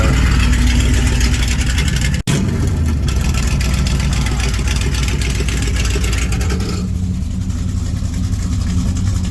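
A Dodge Demon with a 340 engine, 727 automatic and high-stall converter, rumbling loudly and steadily close by with a sharp click partway through and a slight drop in tone near the end.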